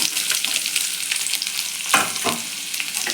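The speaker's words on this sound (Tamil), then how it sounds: "வெங்காயத்தை நல்லா வதக்கிடுவோம்." Onions fry in a pan for a Tamil dried fish curry, with a steady close sizzle and crackle broken by a couple of louder scraping stirs, and no voices heard.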